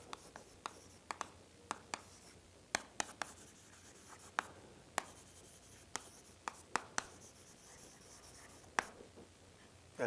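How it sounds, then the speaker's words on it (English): Chalk or marker writing on a board in a doctoral lecture on partial differential equations, heard as a string of faint, sharp taps and short strokes spread irregularly over quiet room tone, with no talking. "let me write it"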